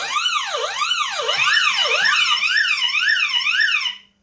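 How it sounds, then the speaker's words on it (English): A security system's police siren tone wails in smooth rising and falling electronic sweeps, shifting to a faster cycle halfway through, loud and steady before cutting off abruptly. "So we have police here, which I'm pretty sure is just the normal security tone."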